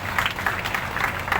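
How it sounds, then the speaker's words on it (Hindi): An audience claps together in steady, dense applause at a motivational talk on becoming an IAS/RAS officer, fairly close and continuous with no voices over it. "एक बार ताली बजाओ और खुश हो जाओ"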